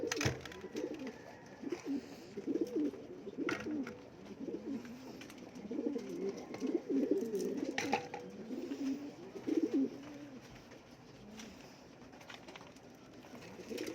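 Pigeons being fed coo continuously in low, throaty, overlapping calls, close by and moderately quiet, with occasional clicks and rustles.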